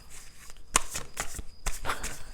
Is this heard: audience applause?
no